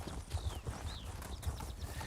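Horse mount hooves in Elder Scrolls Online, a quiet, regular clip-clop of hoofbeats at a steady trotting rhythm with faint ambient game sounds around them, no talking.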